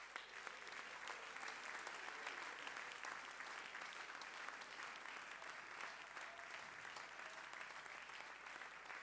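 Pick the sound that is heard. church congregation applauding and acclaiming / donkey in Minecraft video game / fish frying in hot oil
church congregation applauding and acclaiming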